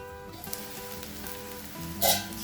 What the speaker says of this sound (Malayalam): ഇവിടെ കിട്ടാത്തത് കൊണ്ട് റൈസ് ബ്രാൻഡ് ഓയിലും സവാളയാണ് യൂസ് ചെയ്യുന്നത്. നന്നായി പച്ചമണം പോകുന്ന വരെ വഴറ്റണം.